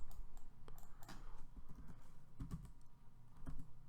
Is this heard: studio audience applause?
no